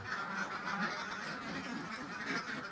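Laying ducks in a dry, odor-free modern pen give a continuous chorus of overlapping nasal quacks and honking calls, loud and close with no voices.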